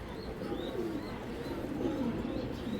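A big Belgian racer pigeon hen coos softly at close range in repeated low, rolling phrases over a quiet background hum.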